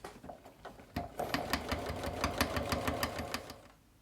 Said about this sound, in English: I'm just going to start my actual sewing